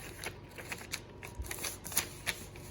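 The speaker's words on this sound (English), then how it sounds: "Now, fold your whole paper airplane in half." A sheet of paper being folded in half to form a standard dart paper airplane, giving soft crinkles and crisp creasing rustles that come up close and alone in short bursts.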